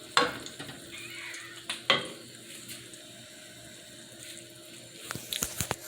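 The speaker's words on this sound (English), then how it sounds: "Just let that simmer for a little" A pot of green chicken chile and white bean soup simmers with a soft, continuous bubbling hiss, broken by a few sharp clinks of a utensil near the start and a cluster of taps toward the end.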